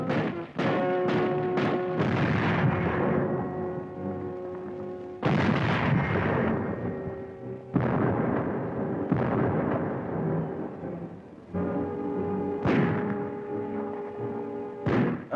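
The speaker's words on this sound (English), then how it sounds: "The Nazis direct their fire across the harbor." Archival war footage of artillery and naval guns bombarding the harbor of Gdynia, Poland: a series of heavy booming blasts, each sudden and loud then rumbling away, spaced a few seconds apart with clustered shots early on.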